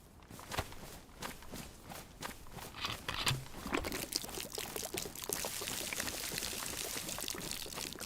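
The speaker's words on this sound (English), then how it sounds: "Could go drink some water quickly before we move on." Water gulped by a character in the video game DayZ: repeated pouring, slurping swallows in close bursts that run into a steady rushing wash, with no talking.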